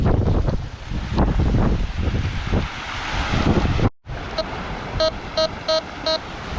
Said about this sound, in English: the waves start to sort of get a little bit more aggressive